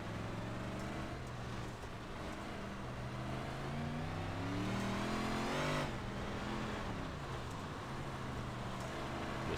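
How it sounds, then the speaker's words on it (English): A 358 dirt modified race car in iRacing at Kokomo Speedway approaches with a continuous loud engine drone, pitch rising and swelling around the midpoint as it closes in, then settling back into steady running. "Watch your mirrors, there's a car approaching."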